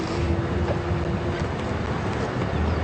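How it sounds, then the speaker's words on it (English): Steady rushing wind noise from a light breeze buffets the microphone throughout on a morning safari drive at Djuma Game Reserve, South Africa, a constant breezy outdoor roar with no distinct events. "Not very windy, but there is a bit of a breeze."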